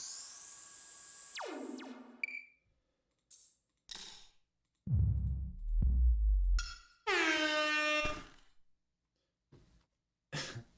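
Two blasts of a loud, brassy air horn sound effect, one opening and one later, each sliding down in pitch, separated by clicks, thumps and rustling.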